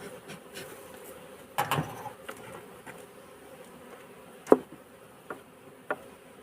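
A honeybee colony buzzes faintly at an open hive, a low steady hum broken by a few brief, sharper knocks and clicks nearby.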